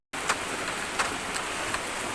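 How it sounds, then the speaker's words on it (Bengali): Heavy rain pours steadily in a thunderstorm-like downpour, a dense continuous hiss seen from a third-floor home, with a few louder splashes or gusts cutting through every half second or so. "তো প্রচণ্ড জোরে বৃষ্টি হচ্ছে,"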